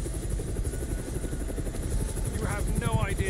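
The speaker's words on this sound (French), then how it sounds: "Un hélicoptère" A helicopter in Chernobylite thuds in a steady close rotor chop, with a voice speaking over it near the end.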